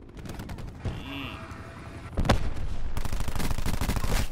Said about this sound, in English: Look, I just spawned and I'm getting shot at.